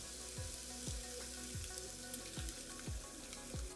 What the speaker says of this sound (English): I'm going to pour over a little liquid nitrogen